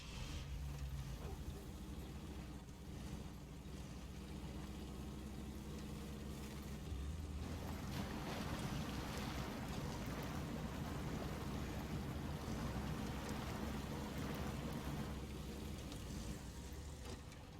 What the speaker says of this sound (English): Handbrake release. Engine start.